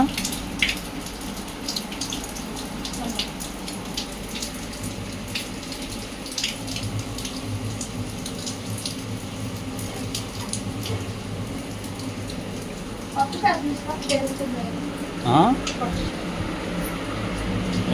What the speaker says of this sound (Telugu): వాన చూడండి ఎట్లా పడుతుంది